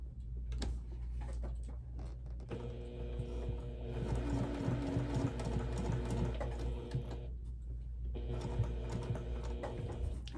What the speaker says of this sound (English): I'm going to lengthen my stitch and sew just in that specific area and make sure it looks good before I stitch the whole piece.